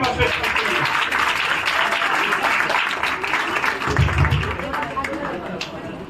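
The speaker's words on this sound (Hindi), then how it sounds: "एक जोर से ताली दें।" A congregation at a church anniversary celebration claps loudly and continuously in a dense, sustained burst, with chatter and a few voices mixed in.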